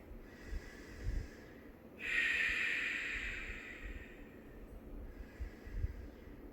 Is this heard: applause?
no